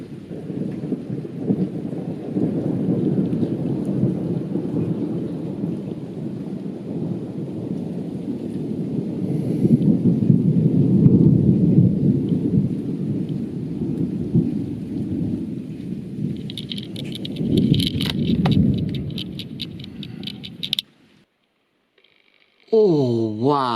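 Nighttime summer thunderstorm with steady heavy rain and long rolling rumbles of thunder swelling and fading, recorded from a sheltered spot near a road; a brief sharp crackle near the end before it drops out.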